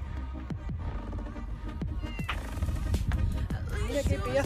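A hungry cat at a fishing harbour gives several short, loud meows in quick succession, interleaved with people talking nearby.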